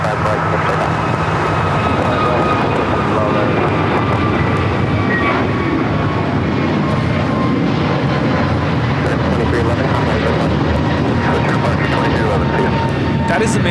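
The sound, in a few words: American Airlines Airbus A321neo jet taking off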